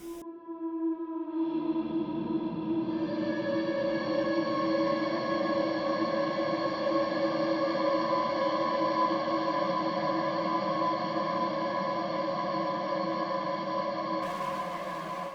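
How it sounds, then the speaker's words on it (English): Sustained electric guitar chords run through a Softube Tape Echoes tape delay plugin, ringing with repeating echoes and a warm smeared tail that stops abruptly near the end. "We have got tape echoes from Softube."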